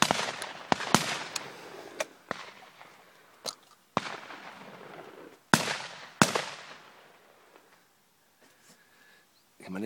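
Shotgun blasts ring out while hunting red partridges in Spain, several sharp reports spaced irregularly with echoing decays, some close and loud, others fainter, ending in quieter field ambience.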